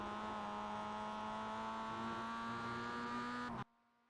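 Steady high-revving engine whine of a Mazda MX-5 in the iRacing video game at Okayama, loud and constant for several seconds before cutting off abruptly to near silence.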